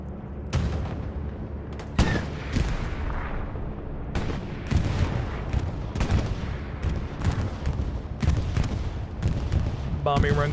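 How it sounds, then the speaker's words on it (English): Bombing run explosions in the video game Hell Let Loose, a rapid series of heavy booming blasts and crackling impacts rolling one after another, loud and dense, with a voice talking over them. "Bombing run comes on in, and can it get the garrison?"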